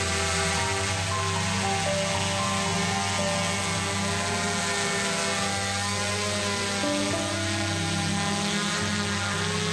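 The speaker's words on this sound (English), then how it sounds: "I need to put it in the air and check it" A camera drone lifts off and flies in an outdoor Pacific Northwest setting, giving a steady, high, buzzing whine of small rotors with a strong tonal hum that holds evenly throughout, close and loud, with no voices.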